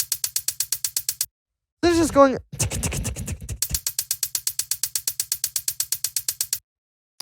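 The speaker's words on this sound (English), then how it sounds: "we got this hi-hat percussion thing," A hi-hat percussion loop from a house track ticks in a fast, steady pattern, cut off midway by a brief spoken phrase and a burst of other sound before the crisp repeating hits return, fairly loud.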